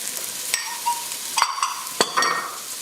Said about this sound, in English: So I'm going to put the carrots in, the celery,